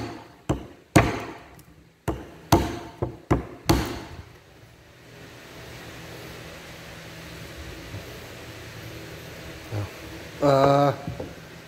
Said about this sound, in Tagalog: Pwede natin test sa kawayan